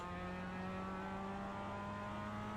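A race car engine drones in the iRacing video game at a steady, high, buzzing pitch, loud and continuous, with no noticeable revving changes over the short stretch.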